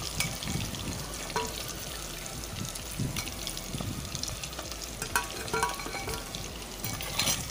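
Eggs frying in oil in a pan, a steady close sizzle and crackle running throughout, with some faint stirring and scraping noises mixed in and no talking.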